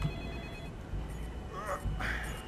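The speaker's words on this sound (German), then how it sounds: "Oh, da klingelt das Telefon." A telephone rings briefly in a game level of Splinter Cell Pandora Tomorrow, a short electronic tone over a low ambient hum, with other faint game sounds after it.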